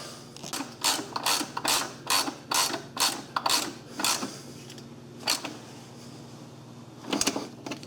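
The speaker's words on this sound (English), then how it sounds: "I'm going to be tightening that bolt up" Tightening a bolt on a coolant accessory of a Volkswagen Jetta VR6 engine, a rapid series of sharp ratchet clicks in quick rhythm, then a pause and a final short burst, close and fairly quiet.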